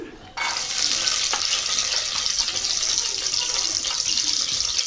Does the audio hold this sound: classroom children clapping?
no